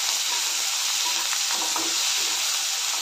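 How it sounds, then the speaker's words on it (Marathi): Tomatoes and roasted peanuts sauté in a pan for a healthy daliya upma, giving a steady, bright sizzle throughout with a few faint spoon scrapes and no voices. "टोमॅटो, थोडेसे भाजलेले शेंगदाणे, सर्व घालून चांगलं परतून घ्यायचं."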